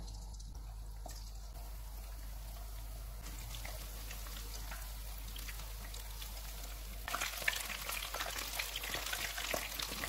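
Aloo chicken pakoras frying in hot oil over a medium-low flame, a soft steady sizzle that swells louder and crackles more near the end, faint and without talk.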